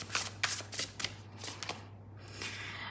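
Tarot cards shuffled by hand in a run of quick riffling bursts, close and moderately loud, with a low steady hum beneath and no talking.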